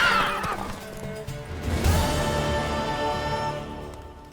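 A horse neighs loudly in the Witcher 3: Wild Hunt video game, a long whinny that rises and then trails off, with no talk over it.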